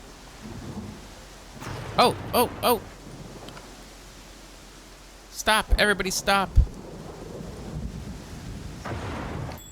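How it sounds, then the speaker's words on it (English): A thunderstorm in the video game Pathfinder Kingmaker, with a steady wash of rain and rumble running throughout while people talk loudly over it in two bursts. "Stormy weather slows down movement by half and reduces visibility."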